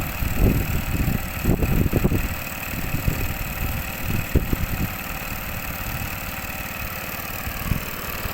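An engine-driven water pump drones steadily in the background while intermittent bursts of splashing and knocking noise rise over it, during recovery of a backhoe stuck in mud.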